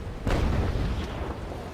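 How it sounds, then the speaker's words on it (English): A ship's cannon fires in the naval battle video game Naval Action 2, a loud deep boom that rolls on and fades over about a second and a half, with no talking. "That there is the first cannon to fire."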